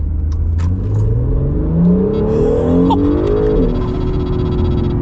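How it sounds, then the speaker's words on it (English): A new Acura NSX with aftermarket exhaust revs hard at full acceleration through rising gears, its loud raspy exhaust climbing in pitch with brief dips at each shift, close by. "this will be our full-blown acceleration"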